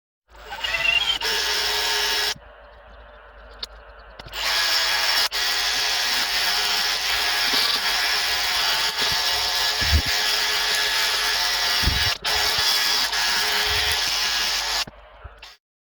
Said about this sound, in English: Polishing wheel, drill, let's see what we can do.